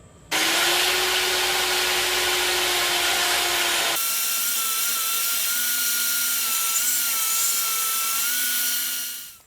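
Power saw cutting a wooden flooring transition piece, a loud continuous whine through the wood for about four seconds, then a steady lower-pitched motor run with no cutting until the blade winds down.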